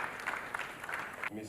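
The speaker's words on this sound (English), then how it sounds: "Let's keep clapping to the next way to the podium." An audience applauds at the ISACA Abuja Chapter award dinner, steady clapping with a few louder swells, moderately near, with a voice speaking over it before the clapping fades out.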